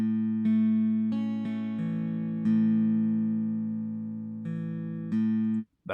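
Sustained chill-out chords from a synth or keyboard, each held warm and steady, shifting to new voicings at a slow, uneven pace over about six seconds, with no voices and a sharp cut at the end.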